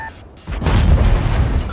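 A Jagdtiger Prototype's 12.8 cm tank gun fires once in World of Tanks, a single heavy boom at close range with a broad rumbling tail that lingers for over a second.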